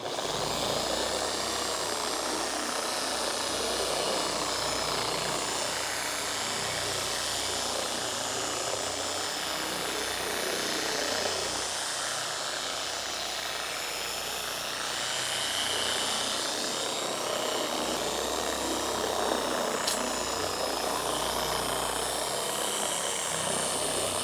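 A car polishing machine runs steadily at its first speed setting while spreading product over the paintwork to remove scratches, a continuous loud whirring drone with no pauses and no talk.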